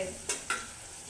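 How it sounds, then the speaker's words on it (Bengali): Tomatoes frying in a pan for noodles, a faint, steady sizzle with two quick stirring scrapes near the start. "এখন এটা একটু ভাজা ভাজা করে নিব, টমেটোগুলো যাতে একটু গলে যায়"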